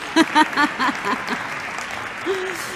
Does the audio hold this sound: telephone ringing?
no